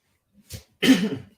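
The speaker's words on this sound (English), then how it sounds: "I still have the dreaded COVID cough" A single harsh COVID cough bursts out close to the mic, preceded by a softer short throat sound, then silence.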